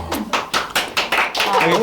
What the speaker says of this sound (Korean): 오늘 박수가 나왔습니다